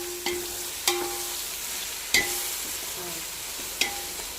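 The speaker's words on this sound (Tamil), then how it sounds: "இந்த ஓரத்தையும் நல்லா கிளறணும், நடுவில் மட்டும் கிளறக்கூடாது" Ginger garlic paste fries in a large biryani pot for beef biryani, a continuous sizzle broken by four sharp metallic scrapes of a spoon against the pot rim, close and clear.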